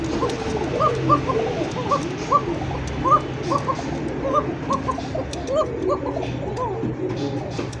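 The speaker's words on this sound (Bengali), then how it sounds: "আবার একটু ডাক দেখার একটু চেষ্টা করি, দেখি ডাকে কীরকম।" A pair of Bombay satin pigeons coo repeatedly, their soft throaty calls rising and falling in an uneven rhythm over a steady low background hum.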